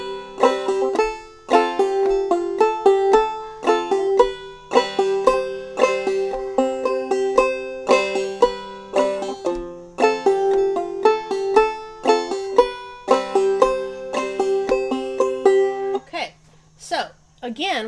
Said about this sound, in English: So the second part of the song sounds like this.